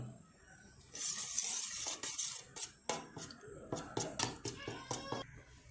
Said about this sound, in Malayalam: ശകലം ഉപ്പ് ഇട്ട് കൊടുക്കണം ഇതൊന്ന് മിക്സ് ചെയ്യണം